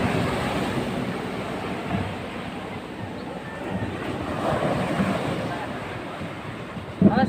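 Big sea waves on a shore where boats have been pulled up: a continuous broadband roar of surf and wind, fairly loud and steady with gentle swells, and a short knock near the end.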